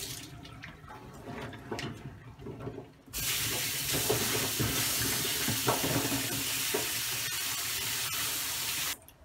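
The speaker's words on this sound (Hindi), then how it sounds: "जो प्याज है उसको भी हम अच्छे से ऐसे धो लेंगे, क्योंकि पहले साबुन वाले पानी से धोया था, अब इसको साफ पानी से धो के।" Onions are rinsed in clean running tap water after a wash in soapy water. Gentle trickling and splashing comes first, then the tap opens fully into a loud, steady gush that runs for about six seconds before it cuts off.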